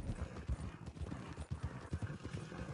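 A horse in the video game Red Dead Online clip-clops along, with rhythmic hoofbeats repeating steadily throughout, fairly quiet and close, with no speech.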